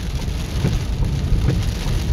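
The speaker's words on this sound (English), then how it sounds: "it's raining with lightning strikes" Steady rain pouring down during a tropical storm with lightning, a dense loud hiss of drops on surfaces, continuous and close with no talk.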